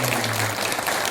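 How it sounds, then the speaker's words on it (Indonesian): A crowd at a community organisation's thanksgiving gathering claps in a dense, continuous burst of applause, loud and close, with no one speaking. "Tepuk tangan buat kita semua."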